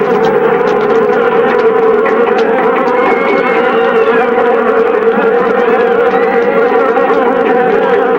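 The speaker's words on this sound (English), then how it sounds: "a swarm of killer bees attacked in downtown Rio" A dense swarm of killer bees, a fierce honeybee breed, buzzes loudly and continuously, a thick droning hum with no voices.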